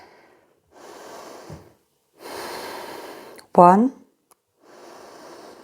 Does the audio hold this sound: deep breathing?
yes